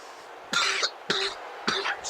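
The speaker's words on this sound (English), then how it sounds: "Excuse me for all the coughing." Coughing during a WWE Raw wrestling match commentary, three short harsh bursts about half a second apart, fairly close and fairly loud.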